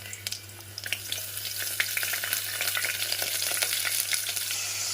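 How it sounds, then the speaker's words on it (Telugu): Green chillies, chopped onions and tomatoes hit hot oil in a pan, giving a loud, steady sizzle that builds and continues with scattered crackles and pops, close up and with no talk. "పచ్చిమిర్చి, అలాగే తరిగి పెట్టుకున్న ఆనియన్స్, టమాటోస్ అన్నీ ఒకటొకటి వేసేద్దాం."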